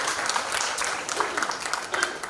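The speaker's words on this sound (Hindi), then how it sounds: "तो इसके लिए एक बार राजेश खरे दादा के लिए तालियां आप बजा दीजिए।" An audience at a career counseling program for 10th and 12th class toppers in Bhopal claps for Rajesh Khare, a dense, steady round of applause heard throughout at moderate loudness.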